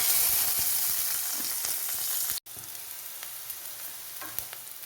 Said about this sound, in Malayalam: ഉള്ളി ചേർത്തു വെളുത്തുള്ളി ചേർത്തു ഇഞ്ചി ചേർത്തു അതൊന്ന് ഇളക്കി കൊടുക്കും